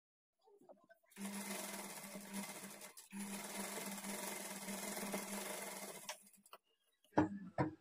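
Sewing machine stitching blouse fabric, a steady close-up whirring run of about five seconds with a brief break, followed by a couple of short clicks and bursts.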